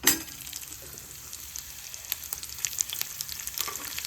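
Green chillies drop into hot oil already spattering with cumin and mustard seeds, giving a loud burst of sizzling at the start. A steady crackling fry follows, with small pops scattered through it.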